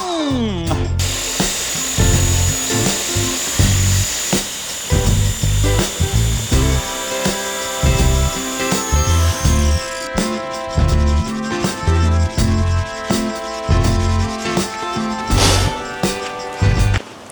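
A power saw cuts wood for shelves nearby, loud and close, with repeated cutting bursts and whining blade tones over about seventeen seconds.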